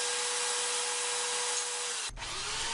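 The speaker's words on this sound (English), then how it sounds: "I'm going to turn on the sander, and I'm going to set that block of wood on that sanding belt" Belt sander running with a block of wood set on its moving sanding belt, a loud, steady high whir and rasp that abruptly drops and shifts to a lower rough scraping tone near the end.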